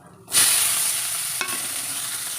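Small shallots hitting hot groundnut oil with fennel seeds in a pan, a sudden loud burst of sizzling that settles into a steady close hiss, with one brief scrape of stirring.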